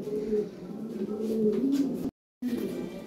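Soft, low cooing from a Lahore siraji pigeon rolls on continuously for about two seconds at close range, breaks off in a brief silence, then resumes.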